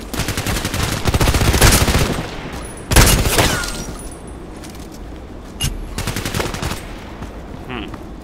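A TKPD sniper rifle fires in the video game Contract Wars on the Evac map, giving loud, close shots with ringing tails in several bursts, then quieter isolated reports.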